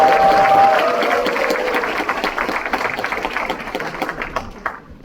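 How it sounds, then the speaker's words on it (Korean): An audience at a lawmaker's constituency report meeting breaks into dense applause. It starts full and loud, then tapers to scattered claps as it fades, with a brief tone at the start. "한 번만 좀 격려의 박수 한번 올려줄까요?"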